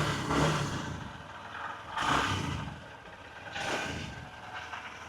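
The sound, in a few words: Honda Shine 125 motorcycle engine idling and revving, exhaust note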